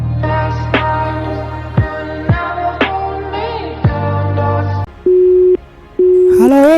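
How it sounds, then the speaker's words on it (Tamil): A mobile phone call hears a recorded announcement about the line being engaged, followed by two steady, loud busy-signal tones with a brief gap between them. "The person you have called is speaking to someone else."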